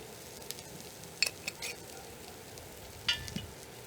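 Peppers and onions frying in a pan, a soft steady sizzle under a few light scrapes and clinks of stirring, fairly faint and close, with no talking.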